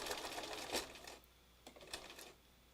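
Faint, quick mechanical stitching from a sewing machine runs briefly, then stops, followed by a few scattered soft clicks and near silence as the thread breaks.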